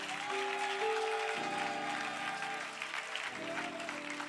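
A church congregation at a Sunday service applauds in acclamation of God, a steady soft wash of clapping running beneath sustained organ-like keyboard chords.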